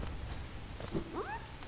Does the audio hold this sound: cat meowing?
yes